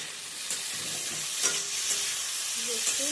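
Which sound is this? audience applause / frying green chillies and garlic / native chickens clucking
frying green chillies and garlic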